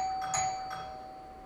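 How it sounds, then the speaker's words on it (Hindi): Doorbell rings with a short electronic chime of two or three tones over a steady high hum, clear and alone. "नहीं अभी तो घंटी बजी"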